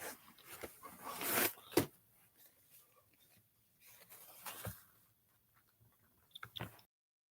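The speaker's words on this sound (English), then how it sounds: "I gotta blow my nose." Someone blows their nose nearby, a sharp hissing burst followed by a few quieter snorts and rustles in an otherwise quiet room.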